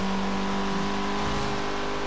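A Renault Mégane RS engine in Forza Horizon 3 drones steadily with a strong sustained tone and a slight rise near the end, loud and continuous with no voices.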